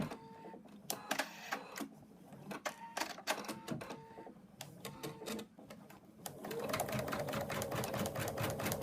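An embroidery machine stitches the outline of a bunny design, its rapid needle chatter running in uneven bursts before settling into a steady, louder mechanical whir, close and alone.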